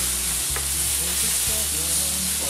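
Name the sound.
onion frying in a pan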